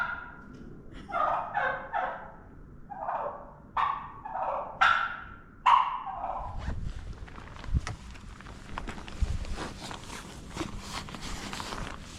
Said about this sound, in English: Turkeys, yeah.